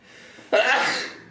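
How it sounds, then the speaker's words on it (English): A single sudden sneeze after a quiet breath in, sharp onset followed by a breathy trailing release, close to the listener. "I'm gonna sneeze again in a minute."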